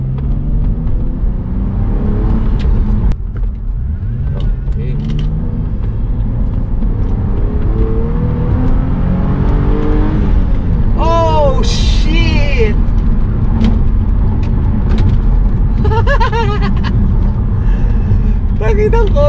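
A 2010 Hyundai Genesis V6 coupe, 300 horsepower, accelerates through the gears on the road. A steady loud engine drone and road rumble run throughout, with a rising rev, while a person talks over it.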